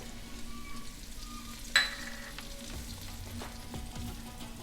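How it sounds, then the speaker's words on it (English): Ground fennel, coriander powder and garam masala sizzle steadily in a hot pan as they are stir-fried, with a sharp clink of the utensil near the start and soft scraping through the rest. "We're just gonna stir fry that all up for a little bit, not too long."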